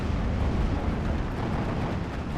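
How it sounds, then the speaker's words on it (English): Bombs dropped by a B-51 bomber explode in the World War II strategy game Steel Division 2, a dense, continuous low rumble of overlapping blasts that stays steady and heavy throughout. "B-51's actually gonna get its bombs off"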